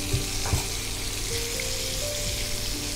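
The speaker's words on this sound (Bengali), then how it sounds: "আমরা পনিরটা একটু লালচে লালচে করে ভেজে নিতে হবে" Paneer cubes fry in a pan for paneer jalfrezi, giving a steady, close sizzle with a couple of soft knocks near the start and no voices.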